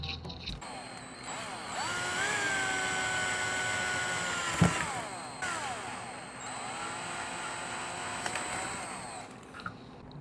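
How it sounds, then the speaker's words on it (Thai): An electric drill whirs up to speed, runs in a steady whine, briefly stops, then spins again for several seconds, with a few small knocks, drilling metal for a small homemade cutting stand. "ผมก็จะใช้สว่านเจาะน้ำไปก่อนนะครับ"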